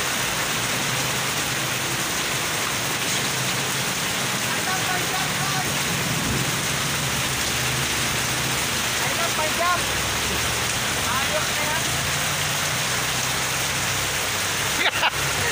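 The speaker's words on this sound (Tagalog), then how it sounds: "Hindi na tumitigil yung ulan guys" Steady heavy rain falls outside along a Tagaytay road during a storm, a continuous broadband wash with no pauses and a brief clatter near the end.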